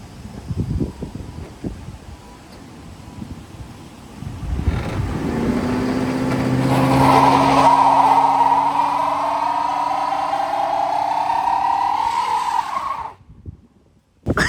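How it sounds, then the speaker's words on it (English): A Lincoln Town Car engine is held on the brake and revved for a tire burnout. The loud, close whine climbs steadily in pitch and holds for several seconds, then cuts off abruptly. "We're gonna try to build up these RPMs, get my foot on that brake, and see if we could get these tires spinning"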